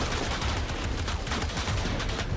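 Dense gunfire and explosions in the video game Shadow of the Tomb Raider form a loud, continuous barrage of rapid shots and booms with no pause.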